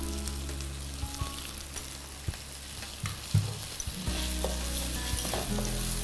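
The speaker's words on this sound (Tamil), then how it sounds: "இதோட இந்த கழுவி வச்ச அரிசியை சேர்த்துட்டு லேசாக வறுத்துக்கலாம்." Washed rice lightly frying in hot oil in a pan for mushroom pilau, stirred steadily with a spoon, giving a continuous close sizzle with scattered scraping clicks and no voices.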